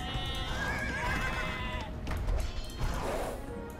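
Horses neighing in the strategy video game Age of Empires 2, a loud, wavering whinny followed by a second, shorter call over steady game background noise, with no talk.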